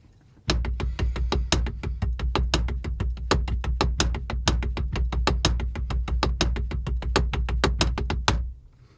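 Drums playing a repeated six stroke roll sticking phrase, a fast, steady stream of sharp evenly spaced hits with recurring accents, loud and close, running continuously for about eight seconds before stopping.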